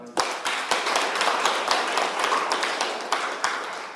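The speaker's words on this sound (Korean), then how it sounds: "이해가 되면 박수 한번 쳐봐요" A classroom audience of police officers claps in a broad, even burst that holds for several seconds at moderate loudness, with sharp accents scattered through the wash of hands.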